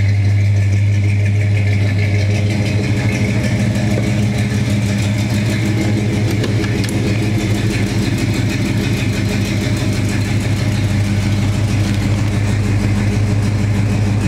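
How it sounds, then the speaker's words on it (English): A 1969 Pontiac GTO convertible's engine idles and runs steadily through its exhaust, a deep constant rumble with a faint rhythmic pulse, close and loud throughout. "Exhaust sounds nice. Car runs great."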